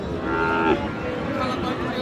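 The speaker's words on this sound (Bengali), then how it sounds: "রিয়াদ ভাই, গরু দেখানো যাবে না যাবে না?" A Sahiwal bull at a busy cattle market gives one loud, close moo in the first moment, then the noisy crowd hubbub of the market carries on beneath.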